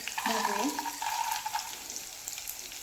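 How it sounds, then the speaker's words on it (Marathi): Green chilies and peanuts roasting in oil for masale bhat, a soft crackling sizzle with light stirring and a faint voice at the start. "शेंगदाणे छान असे भाजून घ्यायचे आहेत तेलावरती"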